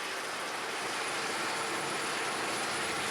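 A light sugar-plantation locomotive running on narrow field rails, heard as a steady, dense rumbling roar of engine and wheels, constant and fairly close with no distinct clicks or pauses.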